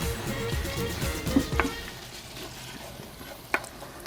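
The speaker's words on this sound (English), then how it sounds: "I'm just going to slowly simmer that." Minced beef and pork chili with pulped tomato simmers in a pan, giving a steady low sizzle and bubbling with a couple of soft stirring clicks, close and moderately quiet, with no one talking.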